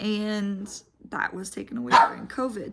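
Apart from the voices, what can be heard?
dog barking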